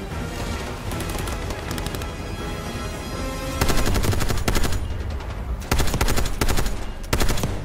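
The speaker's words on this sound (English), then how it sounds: "Machine gun." Machine gun fire in the Call of Duty: Black Ops 6 video game: loud, dense automatic bursts. One long stretch of fire is followed by heavier rapid volleys with short gaps between them, and no voices are heard.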